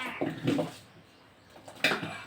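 Water poured into batter in a home kitchen, heard as two short, soft splashing pours separated by a quiet pause, faint and close.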